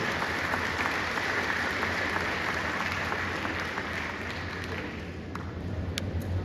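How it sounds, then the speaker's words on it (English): Audience applauds the Health Minister, the chief guest, as she walks to the stage at Red Fest 2026 in Mizoram, sustained, fairly even clapping that eases slightly and then tails off into scattered claps. "Please join me in a warm, respectful round of applause as she makes her way to the stage"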